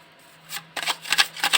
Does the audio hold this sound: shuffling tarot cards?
yes